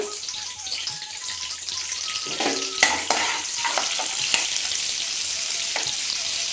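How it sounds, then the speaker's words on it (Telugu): Curry leaves frying in a spoonful of oil in a pan give a steady, close crackling sizzle with sharper pops and spits bursting out now and then, while faint tonal kitchen sounds sit in the background and no one speaks. "ఆయిల్ 1 స్పూన్ కొంచెం ఎక్కువే యాడ్ చేశాను అనమాట. కరివేపాకు యాడ్ చేస్తున్నాను."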